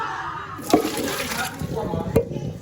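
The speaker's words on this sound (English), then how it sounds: "Let's go ahead and drain these noodles." Water pours from a pot of cooked pasta noodles into a sink or colander, a steady splashing rush with two sharper splashes, while a person talks over it.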